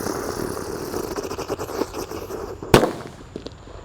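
A red firecracker set off inside the ground gives a single sharp, loud bang near the end, after a stretch of hissing and crackling fuse noise, heard up close in an outdoor setting.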